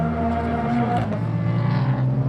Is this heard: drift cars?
yes